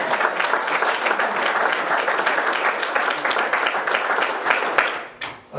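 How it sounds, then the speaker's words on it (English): A room of cadets and guests at a breakfast applauds a pastor, a dense sustained wash of many hands clapping, loud and steady for about five seconds before tapering off at the end. "Applaud Rob Renfro."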